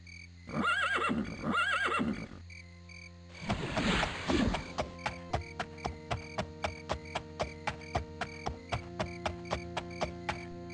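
A horse in The Elder Scrolls II: Daggerfall gives two loud whinnies, then a harsher snort-like neigh, followed by a steady run of rhythmic clip-clop hoofbeats at an even gallop pace.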